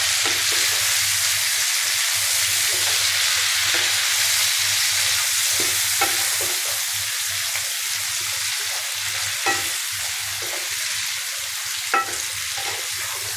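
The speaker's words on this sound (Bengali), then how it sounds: "পেঁয়াজ টমেটো আলু একটা ভেজে দিছি" Onion, tomato and potato fry in a pan with a steady, close sizzling hiss throughout, broken by a few soft clinks of stirring, with no talking.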